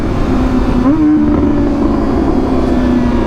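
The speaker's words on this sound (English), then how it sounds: "See how nice that quick shifter is, the auto blip? You don't have to touch the clutch." A Kawasaki ZX-4RR makes a quick-shifter upshift with an automatic throttle blip: a steady engine drone briefly jumps in pitch, then settles into the next gear. It is loud and close, with no talking.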